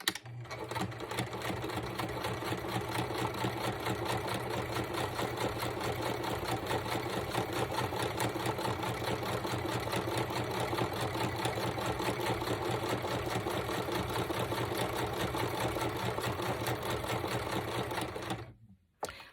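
Sewing machine stitching lace onto a paper journal cover, a loud, continuous, fast mechanical whirring with rapid needle ticking that runs steadily for about eighteen seconds before stopping abruptly.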